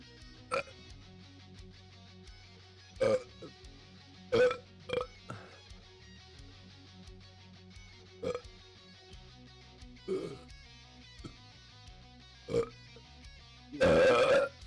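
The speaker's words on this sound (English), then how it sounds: "I got the hiccups really bad." A person hiccups repeatedly, about eight sharp, short vocal jolts spaced irregularly over a quiet room, with a longer, louder burst near the end.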